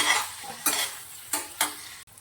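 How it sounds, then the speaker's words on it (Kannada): Paneer cubes frying in melted butter in a pan, a gentle close sizzle broken by three or four sharp spatula stirs and scrapes, and no one speaks. "ಪನ್ನೀರ ಸ್ವಲ್ಪ ಫ್ರೈ ಮಾಡ್ಕೊತೀನಿ"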